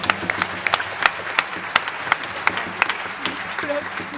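A small theatre audience at a show in Namur claps in a light, scattered burst, individual hand claps standing out, with faint voices talking beneath it.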